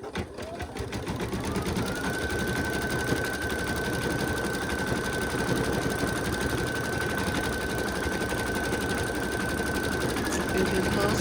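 An embroidery machine stitches a design onto a towel with a continuous, close mechanical whir and a steady high hum throughout.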